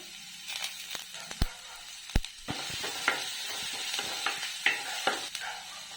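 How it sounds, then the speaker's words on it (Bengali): Chopped garlic and ginger frying in oil give a quiet sizzle, broken by a series of sharp clicks and scrapes from a utensil stirring in the pan. "এবার দিয়ে দিব একটু রসুন কুচো ও আদা কুচো"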